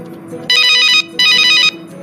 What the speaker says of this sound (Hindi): मैं अभी कुहू के पास फोन करती हूँ।